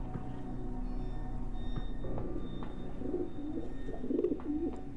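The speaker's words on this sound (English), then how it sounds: "Pigeons." Pigeons coo in The Talos Principle, a few soft, low burbling calls rising over a steady ambient game hum, moderately close and loudest near the end.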